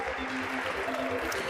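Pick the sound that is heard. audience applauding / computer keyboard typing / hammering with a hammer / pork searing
audience applauding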